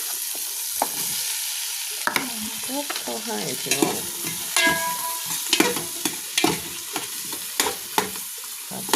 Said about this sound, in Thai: ผัดหมีใส่หม้อหุงข้าวอีกแล้วจ้า